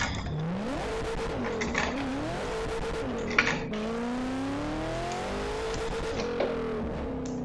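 A four-door Nissan R32 in a driving game revving hard and accelerating through the gears, engine pitch climbing and dropping with each shift, with a brief tire squeal partway through; no talking.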